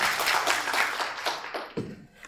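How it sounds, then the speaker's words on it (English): An audience claps at a talk on emergency care, a brief burst of scattered applause that fades out toward the end. "So a big round of applause for me."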